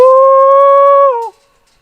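A single goat kid gives one long, clear, steady bleat that drops off at the end, loud and close, on a farm.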